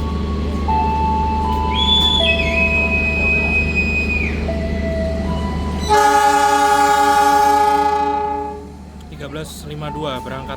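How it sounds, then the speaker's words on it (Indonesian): Gaya Baru Malam Selatan passenger train departing a station in Indonesia, with a sustained horn tone and engine rumble, then a loud chord-like horn blast that fades as the train pulls away, with a voice speaking over it. "Di jalur 2 kereta api Gaya Baru Malam Selatan kembali diberangkatkan."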